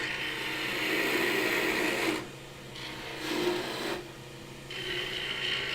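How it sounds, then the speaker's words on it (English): A spindle gouge making a push cut on a wood lathe while shaping a pedestal bowl, giving a steady, raspy shaving hiss in several long strokes separated by brief quieter pauses. "we can do that with a spindle gouge like that in a push cut"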